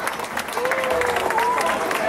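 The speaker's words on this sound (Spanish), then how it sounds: "Bueno, muy bien, otro aplauso." An audience at a chapel's 50th anniversary celebration claps steadily throughout, a dense, loud burst of applause with a voice faintly audible underneath.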